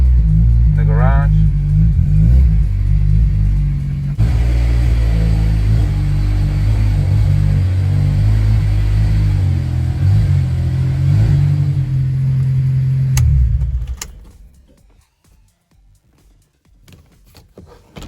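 A Honda S2000 AP1 drives into a garage, its engine rumbling loud and close with a steady low idle and light revving before it cuts off and goes quiet near the end.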